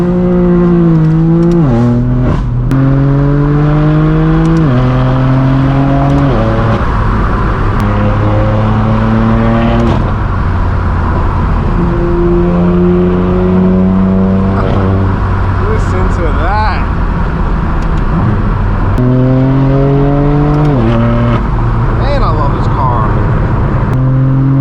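Straight-piped BMW M4 F82 driving through Southern California, its loud raw exhaust repeatedly revving up through the gears with sharp rising pitch sweeps and brief drops between shifts, close and continuous.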